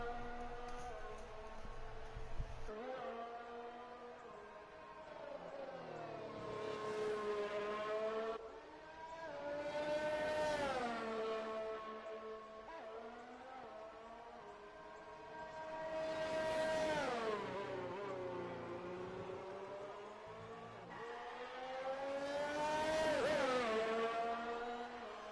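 Formula 1 cars lapping the Australian Grand Prix in an F1 racing video game, engines rising and falling in pitch through gear changes in long sweeping waves, steady and fairly distant, with no talk.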